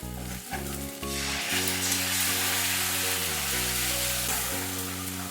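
Grated tomato drops into sizzling oil with ginger paste for a Bengali hilsa fish jhol, producing a bright, continuous frying hiss under loud, steady background music.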